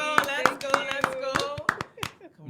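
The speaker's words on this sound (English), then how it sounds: "Round of applause." A few hands clap in a sparse, uneven rhythm for a guest on a talk show, close and fairly loud, with voices talking and cheering over the claps.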